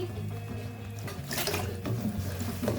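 About half a cup of water is poured into chicken curry gravy simmering on a low flame, a steady close splashing and trickling that runs throughout over a faint kitchen hum.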